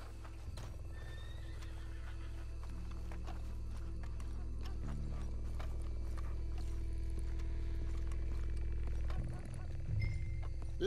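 Horse hooves clop steadily at a moderate distance, with a whinny and some low rumbling background, in the video game Red Dead Redemption 2.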